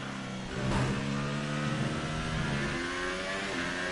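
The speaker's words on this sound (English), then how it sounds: "Fritz Revs down the straight." A Formula 1 car in the F1 2018 racing game on the Russian circuit rises sharply in revs, then holds a high, buzzing engine note before easing off, moderately loud and alone without talk.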